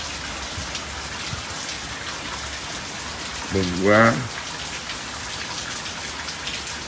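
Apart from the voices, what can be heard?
heavy rain pouring on a garden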